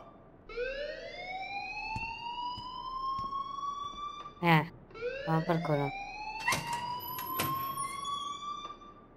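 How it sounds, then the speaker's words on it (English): Rising, repeating electronic alarm tones from the adventure video game Life is Strange, a loud wailing sweep that repeats several times, with a voice speaking briefly underneath and sharp clattering bursts in the middle. "please turn off that alarm since that's your job"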